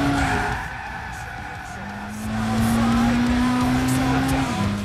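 Racing car in Gran Turismo 6 dropping to first gear and braking hard, a loud sustained engine drone with a rising pitch line and tire squeal over steady game audio.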